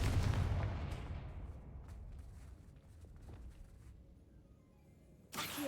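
A Confringo blasting spell explosion in Hogwarts Legacy, a loud boom at the start that rumbles and fades over several seconds, followed by a sharp burst near the end.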